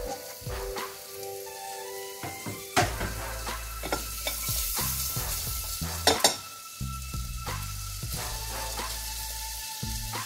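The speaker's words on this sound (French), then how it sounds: "Le beurre est fondu, donc maintenant vous prenez vos os et vous les mettez dans votre casserole." Steady sizzling and frying of bones in melted butter in a pan, with occasional clinks and scraping of utensils against the pan throughout.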